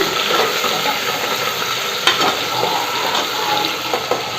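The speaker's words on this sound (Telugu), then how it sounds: "ఆనియన్స్ పచ్చిమిర్చి ఇంకా కరివేపాకు ఒకసారి మిక్స్ చేసుకున్నాము" Onions, green chillies and curry leaves sizzle loudly as they are stirred in a hot pan for masala pappu, a steady close frying hiss with a few scraping clicks of the spoon.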